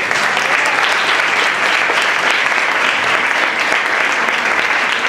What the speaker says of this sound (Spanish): que le damos también un aplauso a Carmen que está allí